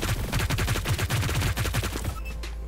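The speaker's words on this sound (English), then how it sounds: "if you have 2 or 3 people with the miniguns, from what I experienced from the first test, it just absolutely shreds" A minigun fires in the video game Hyper Scape: a rapid, continuous stream of shots at a steady fast rhythm, loud and close. It runs for about two seconds, then cuts off and leaves a faint tail.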